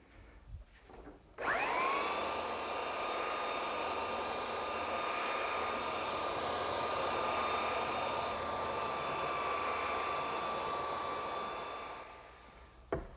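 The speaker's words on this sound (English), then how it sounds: "when you do belt sanding" A belt sander roars loudly and steadily for about eleven seconds on a wooden drop-leaf table top, starting abruptly and running without talk before winding down.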